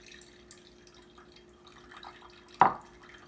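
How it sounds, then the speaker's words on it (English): Whey drains from curdled milk as the curds are strained, making a soft trickle under faint background noise, then one sudden, louder splash of liquid near the end. "We're going to separate the curds from the whey."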